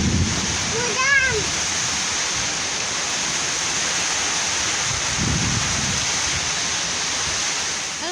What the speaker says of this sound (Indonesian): Ini turun juga akhirnya hujannya.